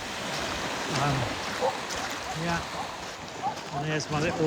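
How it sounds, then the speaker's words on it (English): Waves lapping on the seashore at the tide's edge, a continuous soft wash with gentle surges, heard under a nearby person talking and some small bird calls. "it's the sound of the lapping of the waves"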